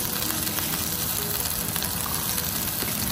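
Okra, eggplant and string beans fry in a pan with a steady, even sizzle, close and constant for the whole stretch, with no talking or stirring clatter standing out.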